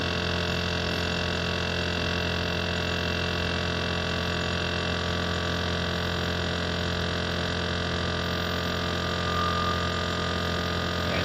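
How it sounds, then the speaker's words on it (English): A turbo pump on a vacuum furnace spins up, giving a steady electrical hum with stacked tonal lines that hold constant throughout, continuous and moderately loud with no talking. "Turbo pump is still accelerating."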